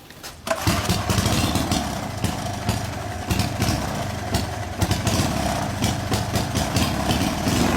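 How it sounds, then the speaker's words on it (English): A small single-cylinder engine with a transparent see-through cylinder head starts abruptly and runs while on fire, giving a loud, steady, rough idle with rapid firing pulses and no voices. "Can you imagine this engine with the see-through head running while it's on fire in slow motion?"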